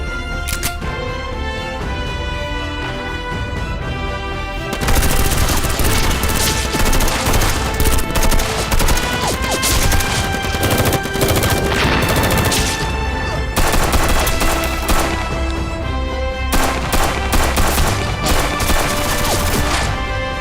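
Gunfire in a battle scene, dense bursts of rapid shots and fusillades over a continuous background, loud and sustained, with brief quieter gaps between heavy volleys.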